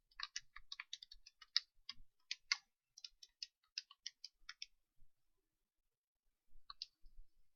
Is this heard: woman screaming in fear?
no